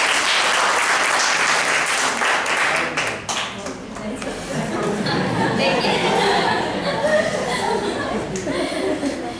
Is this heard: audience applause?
yes